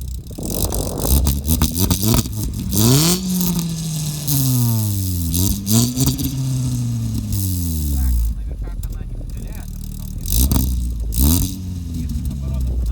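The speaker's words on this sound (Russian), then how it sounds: "давай оценим выхлоп. Как она звучит." A Lada Granta car with an aftermarket exhaust revs repeatedly, the exhaust note rising and falling in several loud surges, with brief voices in between.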